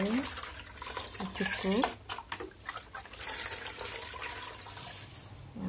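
Water splashes and trickles as it is poured onto potted fruit plants, with someone speaking briefly in Indonesian over the sound.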